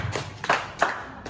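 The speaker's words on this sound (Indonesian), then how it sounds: "Kita berikan tepuk tangan sekali lagi untuk mereka semua." A few brief hand claps from students, quiet and spaced unevenly, from a small group rather than full applause.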